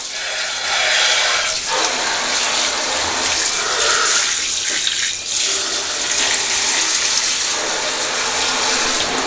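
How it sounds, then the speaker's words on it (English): A handheld shower sprays water steadily over soaked plastic pet cage pieces in a bathtub, a loud, continuous hiss and splatter with slight shifts as the spray moves. "So now I'll just go over with the shower and get them all wet."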